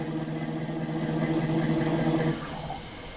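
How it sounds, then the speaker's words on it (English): A car engine idling at low revs while slowly backing into a garage, a steady close hum that drops off and softens near the end. "trying to carefully back this up into the garage here."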